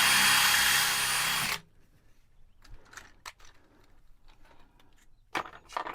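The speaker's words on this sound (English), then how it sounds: "Drill a little bit of a hole and then take it sideways." A power drill bores a pilot hole at an angle for a screw during roof structure work, running loud and steady for about a second and a half before cutting off, followed by quiet shuffling and faint handling noises.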